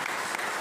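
Congregation applauding during a church service, a brief burst of steady clapping, moderately loud and alone.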